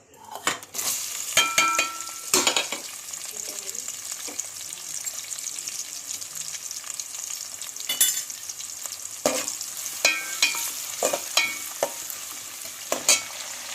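Two small chopped onions frying in a pan with spices for gongura prawn curry, a soft continuous sizzle with frequent clinks and scrapes of a spoon stirring against the metal.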